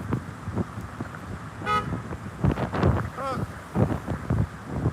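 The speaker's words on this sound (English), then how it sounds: "He honked at me." A car horn toots briefly, then a second honk follows, both short and moderately close amid traffic noise and passing wind.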